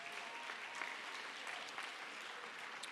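Audience applause at a 2025 IAC preliminaries event, a dense, even wash of clapping that holds steady and fairly loud for the whole few seconds.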